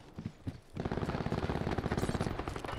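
Rapid automatic fire from a heavily kicking gun in the video game Black Ops, a quick run of loud, closely spaced shots after a couple of separate bangs, sustained to the end.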